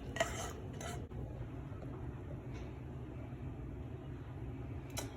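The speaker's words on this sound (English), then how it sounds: "I'm gonna go ahead and put them in this Pyrex" Peaches being put into a Pyrex baking dish, with a few soft clinks of glass and utensil near the start and end over a quiet kitchen background.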